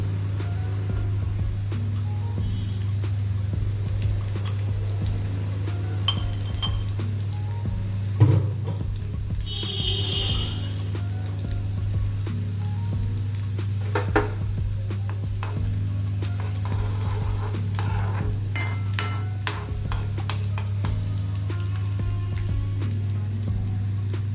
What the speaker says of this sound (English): frying ginger and garlic first until they turn into golden brown